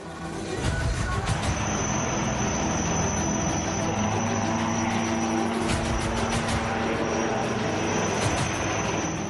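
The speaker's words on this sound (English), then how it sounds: "India's light combat aircraft Tejas" An Indian Tejas light combat jet aircraft roars past at a steady, loud rumble with a broad whooshing hiss that holds for several seconds.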